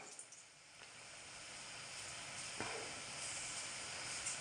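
A steady, soft hiss of turkey berries (sundakkai) frying in oil, continuous and faint throughout with no talk.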